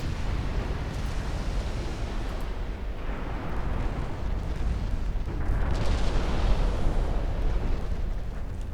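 Naval gunfire from 7.9-inch armour-piercing shells in Ultimate Admiral Dreadnoughts rolls as a continuous, heavy rumbling roar of overlapping booms, loud and dense throughout, swelling slightly toward the end.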